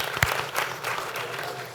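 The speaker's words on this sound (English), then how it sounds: "I think that deserves a round of applause." Brief applause from an audience at a school district board of trustees meeting, a short burst of clapping at moderate level in a meeting room.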